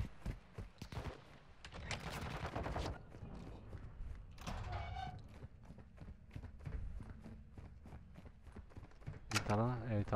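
Sniper gunfire in Warzone 2.0 DMZ, a video game, heard as sharp impulsive cracks scattered through busy game sound, with a loud burst near the end and voices talking over it.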